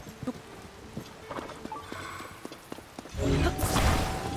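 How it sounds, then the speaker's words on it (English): Horse hooves pulling a carriage clip-clop in Zelda: Tears of the Kingdom, a light rhythmic patter at moderate distance that gives way to a louder rushing swell near the end. "Getting his own wagon and horse-drawn carriage."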